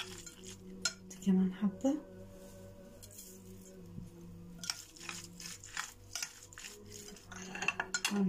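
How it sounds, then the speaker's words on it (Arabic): Toasted sesame seeds stirred in a pan with a utensil, giving soft intermittent scraping and light clinks at close range, with a quiet voice speaking briefly over it. "وهنقلب السمسم ده متحمص"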